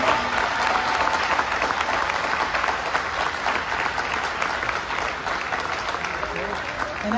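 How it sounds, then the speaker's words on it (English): A large outdoor festival crowd at the Musikfest opening ceremony applauds emergency responders, a steady, dense roar of clapping that stays even for the whole stretch. "a huge round of applause for all emergency responders"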